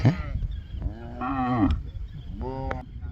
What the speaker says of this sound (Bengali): গরুর পাল ধুলা উড়ে যাচ্ছে